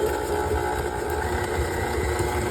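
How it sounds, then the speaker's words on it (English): A KitchenAid stand mixer beats cream cheese and sugar with a steady, continuous whirring motor hum that holds even throughout, with no speech over it. "we got cream cheese and sugar in here. Mixing that together. Fabulous KitchenAid mixer."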